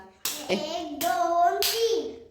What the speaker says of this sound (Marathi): ती चार टाळ्या वाजव बरं आता